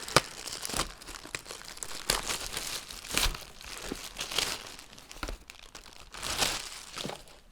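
Crinkly packaging from a Black Friday order being unpacked, crackling and rustling in repeated bursts, close and fairly loud, with no talking.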